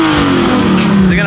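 A very loud Lamborghini engine revs hard and close, with a rising then falling roar and no pause.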